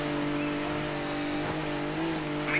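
Car in the rally video game Colin McRae Dirt 3, a roughly 400-horsepower machine sliding and losing grip; a steady engine drone with tonal whine holds throughout, with a brief louder surge near the end and no talk.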